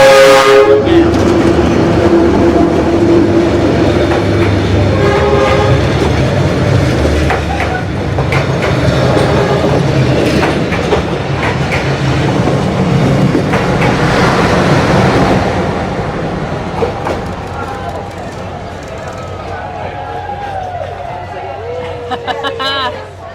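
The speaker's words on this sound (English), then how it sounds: "if you wonder how close this train actually gets, this is how close this train" A train passing very close along Hanoi's narrow Train Street, loud and near with a blaring horn at the start and rolling wheel clatter that gradually fades, with people talking alongside.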